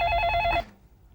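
A telephone bell rings in a home, a short trilling burst of bright electronic tones that cuts off partway through, leaving quiet room tone behind.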